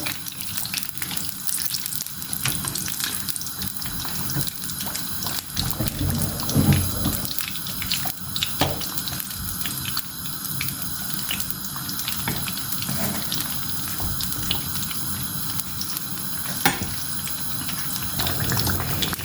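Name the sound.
eggplant (brinjal) frying in pan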